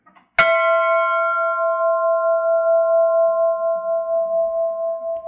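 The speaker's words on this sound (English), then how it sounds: "You can ring that bell one more time." An old sugar estate bell at a sugar museum is struck once and rings out loud and near, its clear metallic tone sustaining and slowly fading with a gentle beating shimmer.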